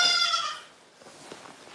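Baby goats on a farm during kidding season bleat, with one loud, wavering, nasal cry up close at the start, then fainter scattered calls and rustling afterward.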